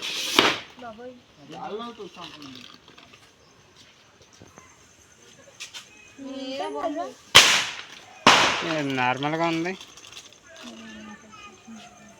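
Two sharp, loud bangs of Diwali firecrackers burst out a second apart amid scattered voices and background chatter.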